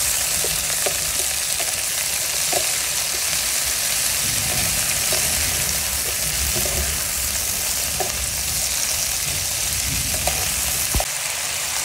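String beans (sitaw) stir-fry in a hot pan, giving a loud, constant close sizzle across the whole stretch, with faint intermittent utensil taps and scrapes as they are stirred; nobody speaks.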